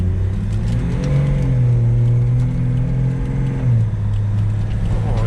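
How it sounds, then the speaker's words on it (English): A 300hp M57 diesel engine in an FJ75 Troopcarrier on its first drive, revving loudly and steadily up close with a rising and falling drone, voices faint underneath. "That's barely pressing anything on the throttle either."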